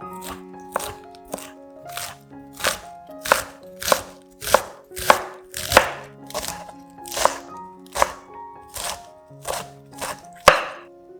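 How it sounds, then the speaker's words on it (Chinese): Fresh cabbage is sliced into fine shreds with a knife on a cutting board for a vegetarian mala hotpot, producing about fifteen crisp, evenly spaced chops that ring out clearly with no voices. "剥开大约100克的高丽菜，切丝放入碗里备用"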